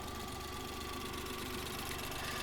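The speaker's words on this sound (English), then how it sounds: "So the engine, just this tiny little engine here, 3-cylinder, 660cc, and the engine vibrates more than they usually do." The 660cc three-cylinder turbo engine of a 1992 Suzuki Cappuccino kei car, noted for vibrating more than usual, runs at a steady idle, a close, even, throbbing hum.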